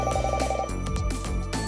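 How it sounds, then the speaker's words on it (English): A telephone rings in a house in a visual novel game, a loud, close electronic ring sounding in repeated bursts. "The sound of the telephone echoes throughout the house"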